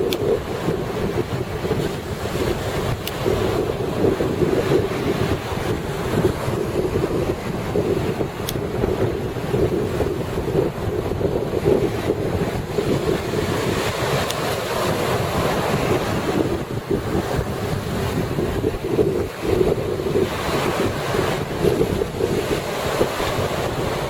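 Steady wind buffets the microphone throughout, a continuous broadband rush with low rumble and no pauses or talk.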